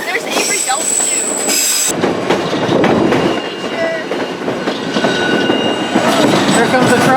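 A train crosses a trestle in Alaska, rumbling loudly with rhythmic wheel clatter and a brief metallic squeal, close and continuous from start to finish.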